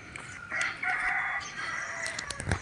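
Chickens and roosters on a poultry farm crow and cluck together in a busy, overlapping chorus, with a louder crow rising near the end.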